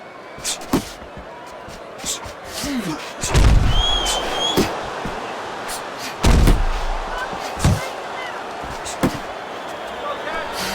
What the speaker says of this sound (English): Good accuracy with that uppercut.